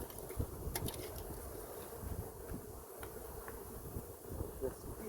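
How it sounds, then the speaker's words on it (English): Honey bees swarm around an open hive during an installation outdoors, a faint continuous buzzing hum with quick passing flyby whines close to the microphone. "Bees are way too busy for their own good."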